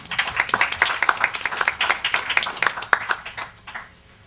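Audience applause, a dense patter of many hands clapping steadily, then thinning out and fading toward the end.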